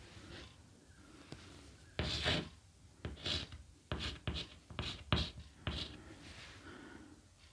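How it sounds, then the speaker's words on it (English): Pen scratching on paper as someone writes by hand, a series of close, quiet strokes in short irregular bursts over a faint background, with no talk. "What do you want me to write"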